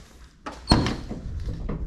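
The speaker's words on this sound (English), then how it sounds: "Pop the door." Door of a 1973–1987 squarebody truck with new seal rubber popping open, a single sharp thunk and latch release followed by a brief rattle.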